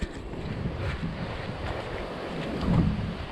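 Steady wind blows in off a beach, buffeting the microphone with a low, continuous rumble while surf hisses faintly underneath.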